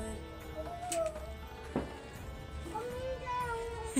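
A cat meows several times at close range, drawn-out wavering cries spread over a few seconds against a quiet room background.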